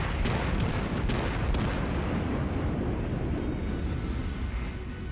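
Heavy guns of a Japanese battleship, the Fuso, fire in World of Warships, a loud booming blast that rolls into a long dense rumble and slowly fades.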